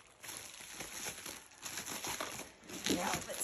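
Bubble wrap crinkles and rustles as it is pulled off a reborn doll from its shipping box, with loud, continuous plastic crackling in bursts up close and a voice briefly heard under it.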